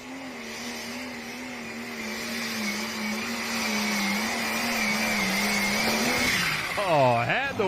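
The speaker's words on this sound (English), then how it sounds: "Jeff Dykes, the Alcoholic Deer, final tractor in the class" A pulling tractor at the Woodbury FFA Championship Pull in Woodbury, Tennessee, roars loud and close with a steady droning engine note, then surges and sweeps sharply in pitch near the end of its run.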